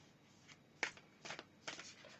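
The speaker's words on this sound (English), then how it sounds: "So it just takes a bit of shuffling." A deck of oracle cards being shuffled by hand, with several quiet riffling bursts in an irregular rhythm, close and soft, with no talk.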